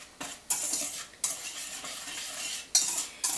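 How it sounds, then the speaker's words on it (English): Dry cornbread ingredients are mixed in a bowl with a utensil, making repeated brushing, scraping strokes in uneven bursts with small clinks against the bowl, close and fairly quiet, with no talking. "we're going to mix the dry ingredients together"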